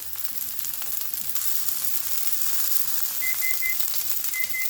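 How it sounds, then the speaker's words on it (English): Butter and garlic sizzling in a pan with tomatoes, a steady close frying hiss and crackle with occasional light clinks and stirring, no talking. "we are just going to let this heat through and absorb the flavors of the butter and the garlic."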